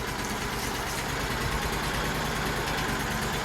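An SHP400 stump grinder's engine runs at a steady mid-pitched drone, loud and close, with constant vibration and no notable changes in speed.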